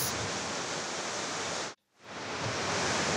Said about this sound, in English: This waterfall is plunging off the end of a lava flow from Mount Ruapehu.